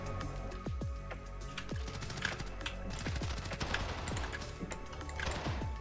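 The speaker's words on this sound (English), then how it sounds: "What's he shooting at?" Faint, distant bursts of automatic gunfire in Call of Duty, scattered sharp cracks over a steady background hum, with no one talking.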